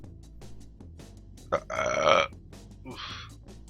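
A single loud, rough burp lasts about half a second, with a shorter one after it, both close to the mic between stretches of quiet talk.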